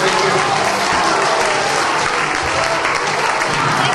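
An audience claps after a magic show, a steady, loud, unbroken wash of applause from many hands that holds at an even level from start to finish.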